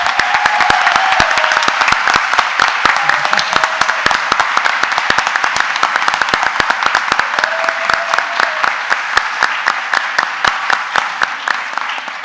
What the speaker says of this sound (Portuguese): gostaria de uma salva de palmas para a Letícia